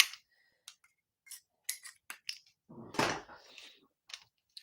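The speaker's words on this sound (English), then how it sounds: "Let's just trim the edges off a little bit." New scissors trimming the edges of paper for a stamped card craft, a series of short crisp snips separated by silences, with one longer rustle of paper handling in the middle, close and fairly quiet.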